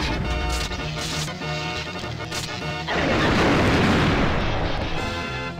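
A heavy explosion in the video game Donkey Kong 64: loud, crashing game effects give way to a dense, roaring blast about halfway through that holds steady to the end.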